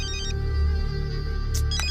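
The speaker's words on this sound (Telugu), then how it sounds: "మళ్ళీ వాడే ఫోన్" A mobile phone ringtone plays in a Telugu movie scene, a steady electronic melody over a low humming bed, with brief sharp bursts near the end.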